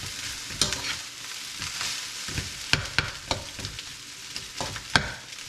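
Chicken fried rice with egg hisses in a hot pan while a utensil scrapes and tosses it in sharp, irregular strokes, close and fairly loud with no voices.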